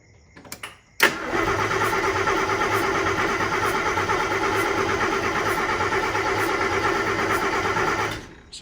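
A Mercedes M100 6.3 V8 running with no exhaust system fitted, after a couple of brief clicks it catches abruptly and settles into a loud, raw, steady roar that holds for several seconds before cutting off.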